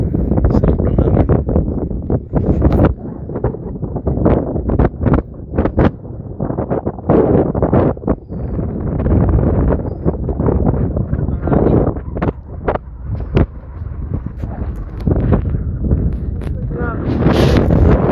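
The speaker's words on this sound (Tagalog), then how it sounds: "Sobrang hangin." Strong wind buffets the microphone outdoors near the water, a loud continuous roar and rumble that runs the whole time under people talking.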